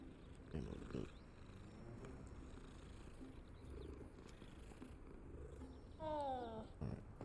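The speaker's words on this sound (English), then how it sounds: "That's a cat." A cat in the Hogwarts Legacy video game purring softly as a low, continuous rumble under quiet ambience, followed by a brief rising meow near the end.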